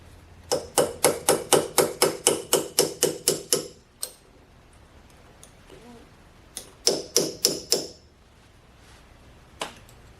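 Small steel punch tapped against a notched lathe spindle nut on a Monarch 10EE during spindle removal: a rapid run of about a dozen sharp metallic taps, a pause, then four more taps and one last lone tap, close and clear.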